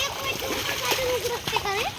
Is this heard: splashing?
yes